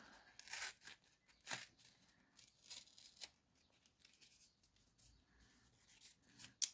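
Cardboard and filter media from a fuel water separator filter are torn and crinkled by hand, producing a series of close, dry ripping and crackling bursts at an uneven pace.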